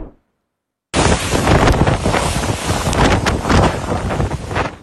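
Strong wind from Super Typhoon Ragasa hitting northern Philippines, a loud continuous roaring gust buffeting the microphone after a brief silent start.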